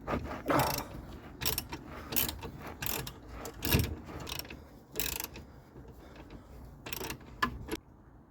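A ratchet wrench tightens an 11/16 bolt head against a 5/8 nut on a Vauxhall Viva HC, with rapid clicking pawl bursts repeating in short strokes, close and clear.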